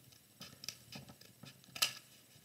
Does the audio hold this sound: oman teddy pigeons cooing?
no